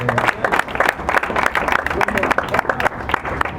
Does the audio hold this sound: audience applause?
yes